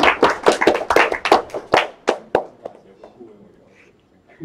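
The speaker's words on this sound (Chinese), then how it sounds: "此处应该有掌声" An audience at a talk breaks into applause, a dense burst of many hands clapping that thins into scattered claps and fades out within a few seconds.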